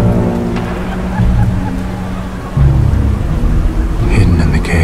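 Loud, steady rain hisses over city streets in Batman: Arkham Origins, with deep rumbling thunder swelling underneath in two heavy waves.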